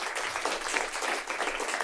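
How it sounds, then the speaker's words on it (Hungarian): A live audience applauds a guest being called up on a Hungarian talk show, a dense burst of close, steady clapping lasting under two seconds with no clear talking. "Tapsoljuk meg Anikót!"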